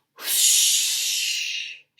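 A woman's loud snore: one long, harsh, breathy rasp lasting about a second and a half, close and alone, cut off sharply.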